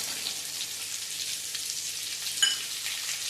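Finely chopped capsicum sautés in a pan for veg pulao, producing a close, even sizzle with light stirring scrapes and one brief clink near the end.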